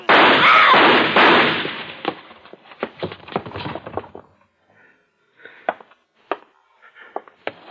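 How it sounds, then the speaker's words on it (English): Gunshots in an old radio mystery drama: a loud burst opens, then a run of sharp cracks and pops follows, thinning out into scattered isolated reports separated by silence. "What were those shots?"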